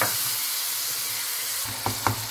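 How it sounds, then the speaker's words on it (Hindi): Spices and tomato frying in a pan for aloo karela bhujiya, a loud, steady hiss of sizzling close by, ending with a couple of stirring scrapes. "अब मैं इसको थोड़ा फ्राई करती हूँ"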